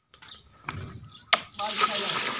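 Water runs steadily from a tap while 15 kg of rice soaks for chicken pulao, following a few short clatters and murmurs at the start.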